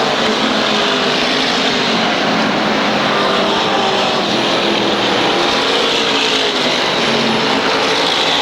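SK Modified race cars in a 1991 feature race at Waterford Speedbowl, with a loud, steady roar of several engines that holds for the whole stretch, without a break.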